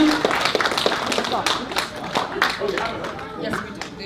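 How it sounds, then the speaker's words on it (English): An audience at a youth public speaking contest applauds the speakers, dense clapping with crowd noise and some talk underneath. "You have to give them a bigger round of applause."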